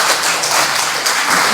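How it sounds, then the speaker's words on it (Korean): An audience gathered at a church for a monthly lecture claps briskly to welcome a professor, a short burst of dense, close applause. "큰 박수로 맞이해 주시면 감사하겠습니다."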